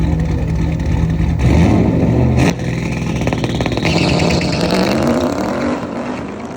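A BMW race car launches hard on a track with a loud, close engine roar that climbs in pitch. A sharp transient cuts through midway before the revs surge again and fade slightly at the end.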